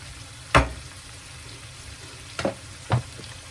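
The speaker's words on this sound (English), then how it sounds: "I'm just going to let that saute for a little bit" Oil in a pan sizzles softly while fish is sauteed for Jamaican brown stew fish, with three sharp bursts of louder spattering and stirring clatter standing out against a low, steady hiss, no talking.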